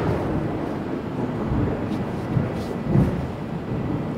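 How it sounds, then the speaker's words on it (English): A big thunderstorm outside rolls as a steady low rumble, muffled and fairly loud, swelling briefly a couple of times over about four seconds with no talking. "There's a big thunderstorm outside."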